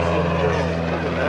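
An airplane flies by, a loud continuous droning roar with a steady engine hum, close and filling the whole short stretch.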